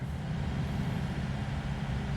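A low, steady rumble of a truck passing outside a hotel in Miami, muffled and distant, droning evenly throughout without other sounds.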